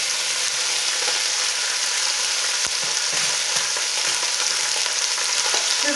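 A pork roast browning in a pressure cooker, giving a steady, fairly loud sizzle and spatter that continues evenly throughout with no talking.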